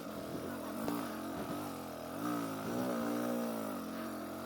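Motorcycle accelerating hard in second gear, engine pitch climbing in repeated sweeps between brief dips, close and loud, ridden by a rider training for the Tour of Idaho.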